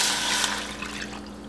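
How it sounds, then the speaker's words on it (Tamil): Tamarind water pours into a pan of sautéed vegetables for Tirunelveli-style sambar, a brief close rushing splash that fades, with no voices. "இப்போ நம்ம கரைச்சி வச்சுருக்கிற புளி தண்ணியும் இது கூட ஆட் பண்ணிடலாம்."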